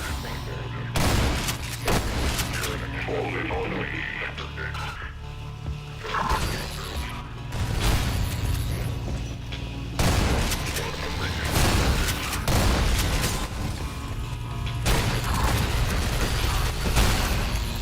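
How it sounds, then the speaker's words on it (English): Soldier gunfire in the video game Prospekt: Zero Remake: loud, close bursts of automatic shots repeat through the scene with mechanical clatter and other game noise between volleys. "I don't think that soldier is shooting at anything."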